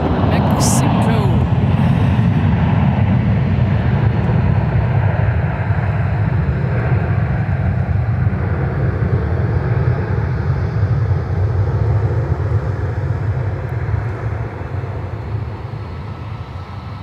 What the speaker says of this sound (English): Delta Flight 1888, touching down from Cancun, Mexico.